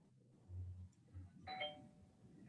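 Soft two-tone doorbell chime, a single ding-dong ringing out faintly after a low rumble, quiet and brief.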